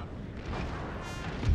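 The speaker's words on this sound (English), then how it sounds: "he doesn't get hit by the cannon, because he's still firing over here" Cannon fire in the video game Total War, set in the Thirty Years' War, comes through as a rumbling boom with a low thump near the end, muffled and dense, with no clear talking.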